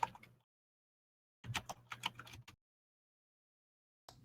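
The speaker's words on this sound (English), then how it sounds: "So we just hear like everyone typing." Quick bursts of keyboard typing, clattering keys in short runs separated by silent pauses, close and fairly quiet.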